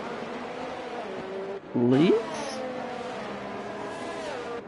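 Race cars in a video game race at the Mexico round drone steadily in the background, with a brief louder engine sweep rising in pitch near the middle, while a voice talks over them.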